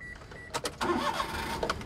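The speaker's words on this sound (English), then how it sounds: "Come inside and start the engine." Engine of a khaki Daihatsu Hijet 4x4 deck van with an enclosed cab cranks in a short burst, then catches and settles into a steady close-up running sound.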